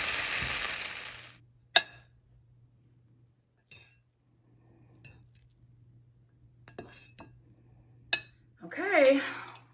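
Fried rice with cut-up sausage is scooped from a pan onto a plate, heard as a few light utensil clinks and scrapes spread out over quiet stretches, with a person talking briefly at the start and end.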